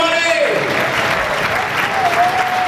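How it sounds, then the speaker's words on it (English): Audience at a cabaret show in Sousse Palace, Tunisia, breaking into loud, sustained applause, dense clapping from a full room lasting a few seconds with a held musical tone underneath. "A big round of applause once again, everybody!"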